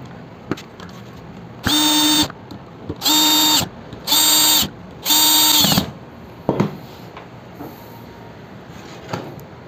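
A Maktec MT 921 electric sander, thirteen years old with fresh brushes, is switched on and off in four short, loud whining bursts, each about half a second to a second long. Clicks and handling noises fill the gaps.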